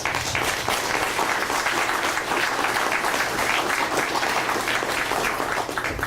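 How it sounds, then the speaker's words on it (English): Sustained, dense applause from a large crowd, loud and even throughout without a break. "So please give them another round of applause."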